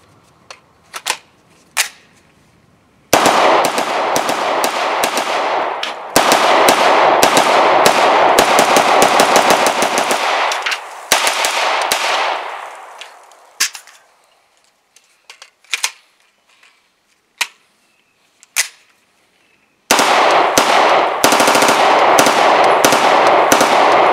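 A SIG MPX Copperhead braced pistol fires long rapid strings of loud, sharp shots close by, broken by short pauses and a few scattered single shots between the bursts.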